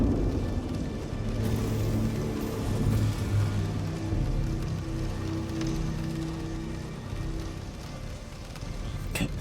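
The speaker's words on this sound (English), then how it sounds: "Look at that rain" Steady rain pours down in the Star Citizen game world, a broad continuous hiss with dense patter that holds at a fairly even level throughout, with a brief clatter near the end.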